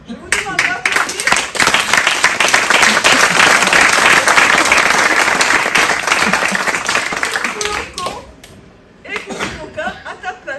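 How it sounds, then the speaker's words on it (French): Loud audience applause at a cabaret show in a Perpignan media library, vigorous clapping swelling and holding, then tapering around eight seconds with a brief renewed burst and light laughter mixed in. "Je vous demande d'applaudir."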